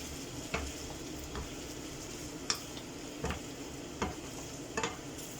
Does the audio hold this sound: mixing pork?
yes